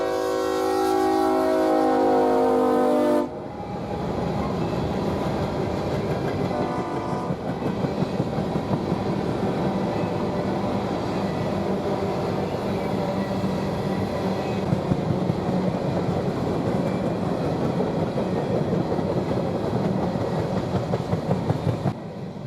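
CSX 1981, the Pan Am Railway heritage unit, runs as the lone locomotive on an empty grain train in the rain. A horn blast opens, then a steady rolling rumble and wheel clatter hold close and loud.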